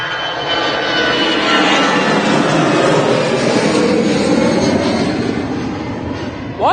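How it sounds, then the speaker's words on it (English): A Lufthansa Airbus A380 departing Manchester Airport for Frankfurt gives a loud, sustained, broadband jet roar that swells and holds for several seconds, heard outdoors close by without talk. "That's just another Lufthansa A380 to Frankfurt"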